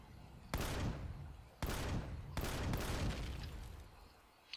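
Gunfire aimed at the player in the video game Empyrion Galactic Survival: three sharp loud blasts, each followed by a long rumbling decay, spaced about a second apart and heard without talking.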